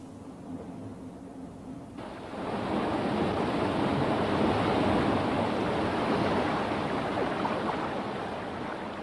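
Water pours over a small waterfall into a stream below, a broad steady rushing roar that swells in abruptly after a quieter start and then holds, with no talk.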